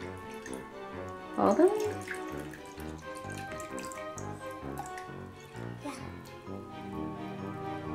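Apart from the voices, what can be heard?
vinegar being scooped and poured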